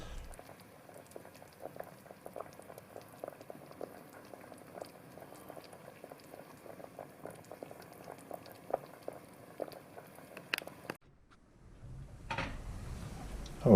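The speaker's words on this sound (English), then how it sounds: "my octopus there, yeah, it's been braising away there for about 40 minutes or so" Baby octopus braises in a pot with a steady bubbling simmer and soft liquid patter, gentle and close, before the sound cuts away near the end to a brief, different rustle.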